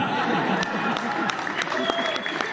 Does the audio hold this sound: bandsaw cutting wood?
no